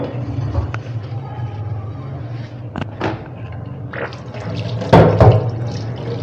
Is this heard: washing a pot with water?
yes